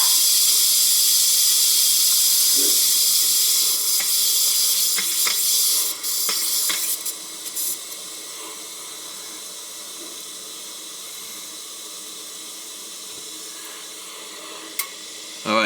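Water from a residential well's relief valve drains through a hose into a catch area outside in the yard, a steady hissing rush that is loud at first and then settles to a quieter, even flow.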